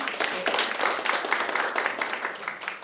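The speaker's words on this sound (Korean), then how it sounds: "큰 박수 부탁드리겠습니다" Steady applause from an audience at a policy forum, dense overlapping claps filling the room for a few seconds without voices on top.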